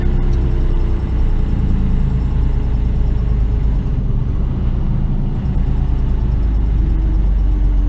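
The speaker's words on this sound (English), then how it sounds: "Engine brake." An HGV container truck working its engine brake on a UK road gives a loud, steady, deep rumble heard from inside the cab, low and continuous with no talking.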